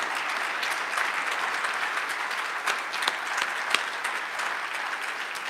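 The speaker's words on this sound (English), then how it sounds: "if we could give them just one more round of applause" Steady, dense applause fills the hall at an awards and recognition evening, a full audience clapping continuously at even volume with a few sharper claps popping out near the end.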